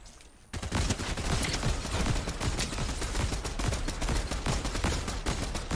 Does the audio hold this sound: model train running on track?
no